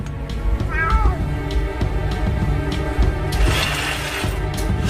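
A jungle cat, a hybrid of a domestic cat and a jungle cat, gives a loud, close meow early on, followed by clattering and scuffling noises.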